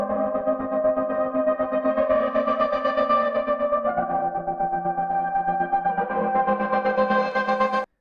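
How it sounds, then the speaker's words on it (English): A looping synth pattern pulses steadily while an Ableton Live Auto Filter sweeps its tone brighter and darker, giving a wah-like, shifting timbre. Loud and alone. "here's a synth loop that we have, and we have some automation on the frequency on this auto filter"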